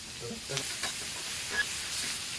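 Shrimp laid in butter on a hot hibachi-style griddle give a broad, steady sizzle, with a few faint scrapes and taps of a utensil underneath, heard nearby.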